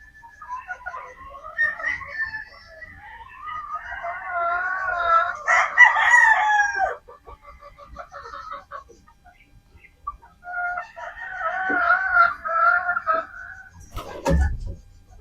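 Sweater gamefowl roosters crowing on a game farm, several long drawn-out crows from close by, separated by quieter gaps with faint clucking, ending in a sharp knock.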